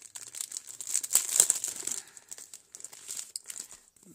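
Small yellow paper envelopes crinkle and rustle as they are handled up close, a series of soft, quick crumpling bursts with no talking.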